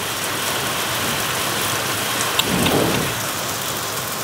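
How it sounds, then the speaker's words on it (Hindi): Steady heavy rain drums on a tin roof, a dense continuous hiss with a brief low rumble partway through. "ये आवाज देखो, ये यहाँ टीन से आवाज आ रही है।"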